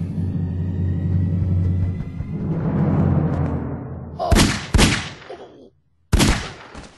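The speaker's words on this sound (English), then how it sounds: "Gunshots?" Gunshots ring out in an audio drama scene, a few sharp loud bangs after a rumbling passage, with a brief silence between the last shots.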